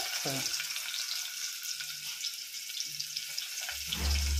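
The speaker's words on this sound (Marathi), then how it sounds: "बघा, चटचणी फोडणी आली आहे।" Steady hissing sizzle of onion frying in hot oil for mutton curry, close up, with a few soft clanks and a low thump near the end.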